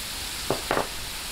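Ground pork sautéing in a pan with pepper being added, a faint steady sizzle broken by two short scraping stirs.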